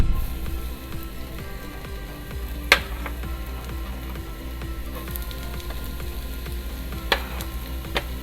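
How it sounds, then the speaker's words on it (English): Garlic and onion sautéing in a pan, a soft crackling sizzle with brief scrapes and a couple of sharper clinks over a low background rumble. "we are gonna saute the garlic and onion first."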